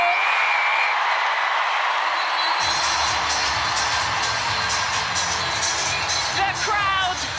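A women's rugby crowd roars and applauds after England score a try against Ireland, a sudden loud surge of cheering that swells and then holds steady, with a voice speaking over it.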